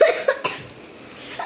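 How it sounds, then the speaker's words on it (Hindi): A feverish person coughs at close range, two or three sharp bursts in quick succession followed by a quiet breathy pause, with no speech. "खांसी है"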